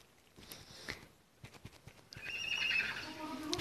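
A unicorn horse in a video game neighs with a drawn-out whinny after a series of hoof clip-clops, fairly close and moderately loud.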